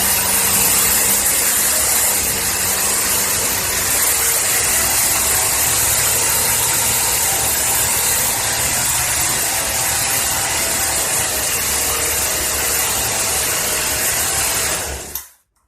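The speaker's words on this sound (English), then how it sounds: "Well, the saw does run. I did actually get a full throttle out of it." A Poulan P3314 chainsaw with a faulty, uncontrollable carburetor runs at full throttle in a loud, steady, buzzing engine drone that holds for about fifteen seconds and then cuts off abruptly.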